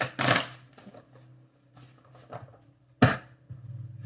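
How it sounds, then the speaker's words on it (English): Tarot cards shuffled by hand: two brisk, close riffling bursts, one at the start and one near the end, with softer card handling between them over a steady low hum. "One more shuffle."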